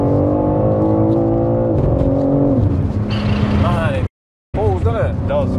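A 620 hp BMW G80 M3 accelerates hard on a driving road, its engine note climbing steadily in pitch, loud and close from the cabin, with a brief cut-out and people talking over it.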